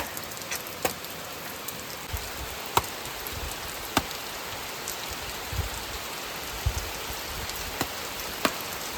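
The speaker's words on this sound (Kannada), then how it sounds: "ಇವಾಗ ಒಂದು ಸ್ವಲ್ಪ ಅಂದರೆ ಮಳೆ ನಿಲ್ಲೋ ಥರ ಆಗಿದೆ" Steady rain hisses throughout, with scattered louder drips and drops tapping nearby at irregular intervals.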